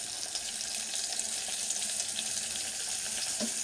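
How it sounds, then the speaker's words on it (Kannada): Onions frying in a pan for a wedding-style drumstick sambar make a continuous, even sizzle, close and fairly loud, with no voices. "ಫ್ರೆಂಡ್, ಈರುಳ್ಳಿ ಎಲ್ಲ ಫ್ರೈ ಆಗಿದೆ."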